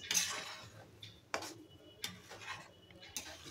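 Grated coconut and jaggery being stirred in a pot over a wood-fired clay stove, a spoon scraping and knocking the pot in a loose rhythm of soft taps, close but faint, with no talking.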